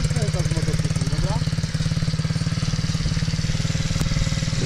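Motorcycle engine running with a steady, rapid low putter as a beginner rides slowly, close and loud, with a person talking over it.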